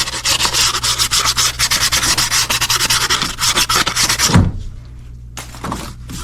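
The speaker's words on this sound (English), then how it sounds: "I'm going to sand this surface off just a little bit." Close, steady back-and-forth sanding scrapes across a gasket mating surface on a Sprinter van engine, a continuous rasp for about four seconds, then a thump and a few short final strokes.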